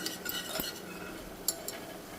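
Vegetables being stirred into a buttermilk stew in a pot, soft scraping and stirring with a couple of sharp metallic clinks of a spoon against the pot, no talk.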